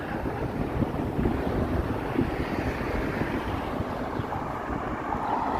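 Cold wind gusts steadily outdoors in a Toronto city park during cherry blossom season, a constant broadband rush buffeting the microphone with no speech.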